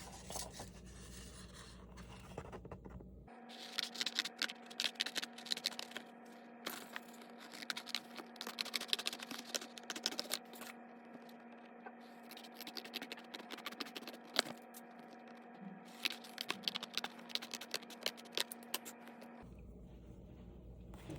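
Scissors trim around a printed paper design for a kinusaiga craft: a long run of small scratchy snips and paper scrapes, close and steady, over a constant low electrical hum.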